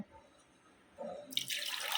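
Quiet kitchen sounds, then water starts pouring in a strong, steady splashing stream for the last half, close by.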